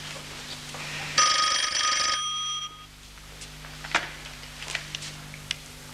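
A telephone rings once with a bright electronic trill lasting about a second, fairly close, then stops, leaving a quiet room with a few small knocks and rustles.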